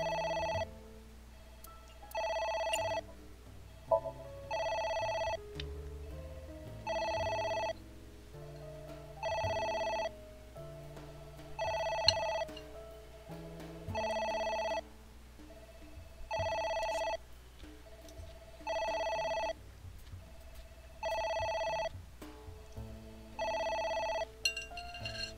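A telephone rings in regular, evenly spaced electronic bursts, about a dozen rings repeating with short gaps between them, fairly quiet and without any talk.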